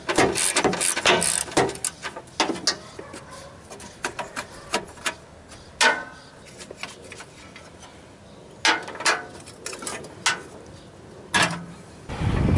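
Bolts coming off a Yard Machines 38-inch MTD mower deck cover with a 13 mm wrench, heard as irregular ratcheting clicks and sharp metallic ticks in short bursts, close by with quiet gaps between.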